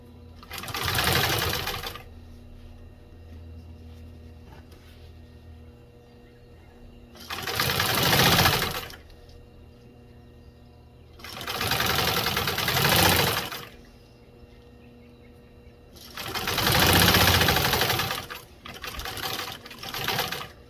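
Commercial sewing machine stitching binding onto automotive carpet runs in four loud bursts of rapid mechanical whirring, each about two seconds long, separated by quieter pauses with a low motor hum.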